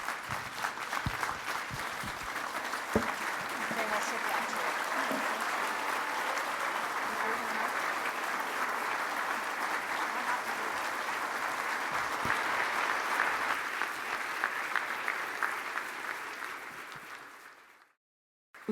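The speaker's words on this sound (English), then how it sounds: "I'd like you all to join me in one more round of applause for Susie Wiles" Sustained applause from a gala awards dinner audience honoring an award recipient, a dense steady clapping wash at full strength for about seventeen seconds before cutting off abruptly.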